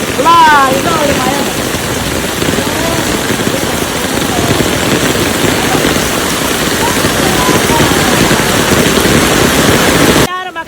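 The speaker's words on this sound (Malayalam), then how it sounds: "ഇതോ ഒരു മഴ" Heavy rain pours steadily onto a newly concreted road in a continuous loud roar that barely varies, with no voices, before it cuts off abruptly at the end.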